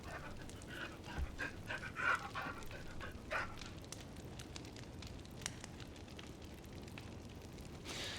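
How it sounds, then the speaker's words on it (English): A dog in the medieval-styled video game Pentiment pants and gives a few short barks, quiet and close, amid soft ambient game sounds and faint crackling. "I'll show kindness to the dog."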